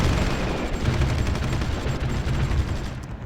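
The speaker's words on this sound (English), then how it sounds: "Now with the artillery fire on the enemy artillery, it should be fairly easy." Continuous rumbling artillery fire and explosions in a strategy war game, dense overlapping blasts forming a loud, sustained barrage that fades out at the very end.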